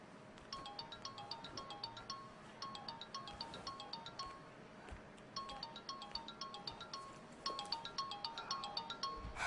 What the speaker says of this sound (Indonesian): boleh saya terima telepon dari Mas Arga?